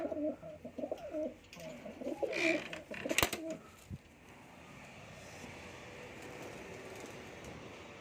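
Pigeons kept in a loft coo in soft, throaty bursts close by during the first few seconds. A sharp clack and low background hum follow, with the cooing fading out.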